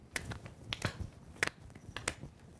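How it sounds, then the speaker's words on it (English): Several sharp hand claps, spaced unevenly with short pauses between them, fairly faint with a quiet room behind. "Now we're going to clap forward and backward."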